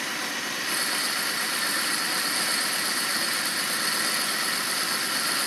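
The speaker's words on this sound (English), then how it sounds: "a quick video of me machining the LG2 bronze bearings" A metal shaper machines an LG2 bronze bearing for a Queen City shaper, producing a continuous, steady mechanical drone with a high whine layered over it, close and fairly loud throughout.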